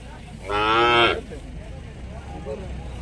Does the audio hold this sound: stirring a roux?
no